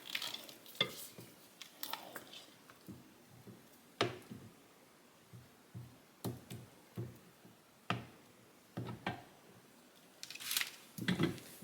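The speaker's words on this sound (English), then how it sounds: "after every couple eggs, you just want to give it a little scrape down and get down to the bottom" A spatula scrapes down cream cheese and egg batter in a mixing bowl, giving soft intermittent scrapes and clinks at an irregular pace, fairly quiet, with no talking.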